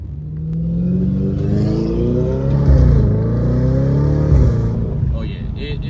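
A loud car engine revs up and down after a 034 Motorsport transmission mount insert install, the pitch sweeping higher and falling back in repeated surges, close and continuous.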